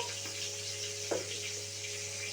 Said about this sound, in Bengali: এখানে আমি তেলের মধ্যে 1 টিস্পুন গোটা জিরে দিয়ে দেবো